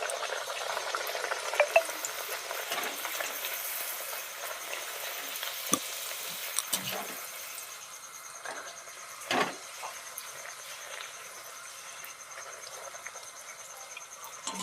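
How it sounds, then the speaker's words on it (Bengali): Luchi, puffed wheat flatbread, deep frying in hot oil in a home kitchen: a steady bubbling sizzle that swells and fades, with a few sharp spatters and clinks, close and moderately loud, no talk. "আর এদিকে লুচি ভেজে নিচ্ছি"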